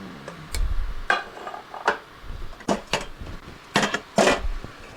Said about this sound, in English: I'll grab my pan.